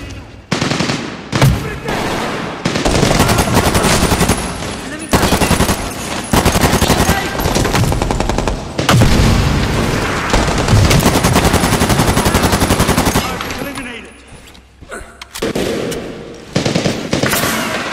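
Heavy gunfire in the Medal of Honor Warfighter shooter on Xbox 360: loud, sustained machine-gun bursts with dense shots almost nonstop, brief gaps between volleys and a short lull near the end before firing resumes.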